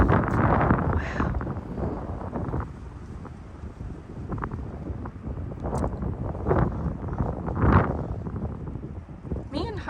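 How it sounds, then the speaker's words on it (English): Gusting wind on a clifftop in New River Gorge, buffeting the microphone in rough, continuous rushes with stronger swells, while a person talks over it. "Oh, it's windy up here."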